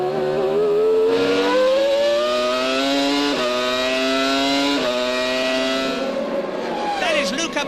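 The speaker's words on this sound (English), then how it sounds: "Now just listen to that Supertech engine." A high-pitched Supertec Formula One engine in a 1999 Minardi screams at the Australian Grand Prix, climbing in pitch and dropping briefly at each gear change as the car speeds along.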